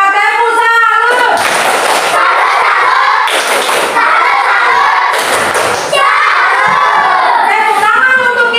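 A class of children performs a salute clapping routine, shouting chanted lines together and striking rhythmic bursts of claps and thumps in repeated loud sections, close and energetic.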